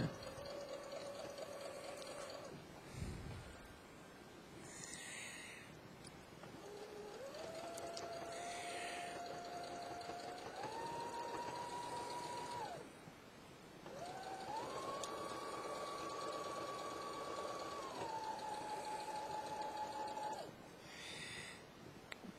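Domestic sewing machine running in several sustained bursts while stitching the shoulder seam of a fleece jacket, motor pitch rising and stepping between speeds, with short pauses between runs and no talk.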